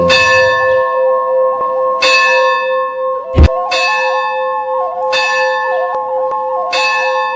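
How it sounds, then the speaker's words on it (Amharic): A church bell rings in a steady pattern with strong, sustained ringing overtones. Loud clangs fall roughly once a second, over a continuous tone and a short low thump. "ደውል"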